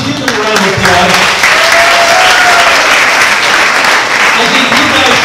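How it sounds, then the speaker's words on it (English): A college audience applauds at a live show, dense sustained clapping filling the hall from start to finish, loud and close. "Please give them a round of applause."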